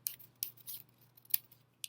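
Several quiet, crisp snips of scissors cutting paper, spaced irregularly, with a faint low hum underneath.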